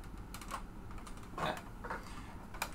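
Keys clack on a big old-school terminal-style keyboard, likely an IBM competitor: a few scattered, fairly faint strikes with a louder cluster mid-way and a sharp tap near the end, no talking.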